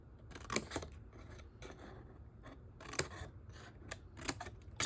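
Scissors snipping through craft paper for an embellishment book, a string of sharp, close cuts in irregular bursts with quiet pauses between them.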